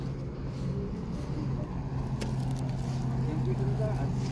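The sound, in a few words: boat engine starting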